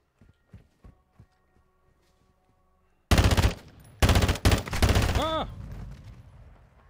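Call of Duty Modern Warfare 2 gunfire: after a few soft footsteps, a loud automatic burst rips out, pauses, then fires again in a rapid close volley before fading.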